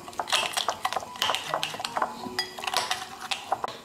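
Chicken pieces being mixed with pepper and salt in a bowl, giving close, irregular clinks and scrapes of utensil against dish, with soft wet stirring between the knocks.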